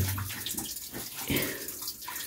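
Underground water flows and splashes steadily nearby in a cave, with faint voices murmuring underneath.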